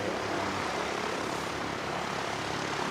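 Propeller aircraft taxiing on runway 29 at Christchurch Airport, a steady broadband engine drone heard from a distance with no voices.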